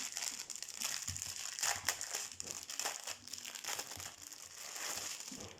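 Packaging of an 11-colour paint set being opened, with steady close crinkling and crushing of plastic or paper wrap and a few sharper rustles, continuous and fairly quiet throughout.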